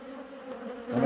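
Honeybees buzzing during a winter hive inspection, a steady close drone that swells louder at the end.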